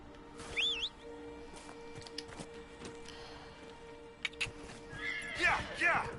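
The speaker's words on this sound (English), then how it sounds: "now I can call my damn horse" A horse whinnies twice in Dragon Age: Inquisition, once early and again near the end, over steady game sounds and people talking.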